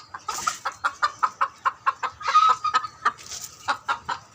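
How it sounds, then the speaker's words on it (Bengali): Chickens cluck in a steady run of short, sharp bursts as they are herded inside, loud and close with no talk over them. "মুরগি ভিতরে দিব"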